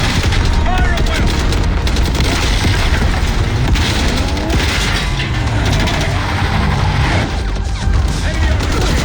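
Dense, loud gunfire from the Call of Duty Black Ops 6 video game, with continuous rapid shots and booms running throughout alongside shouted voices.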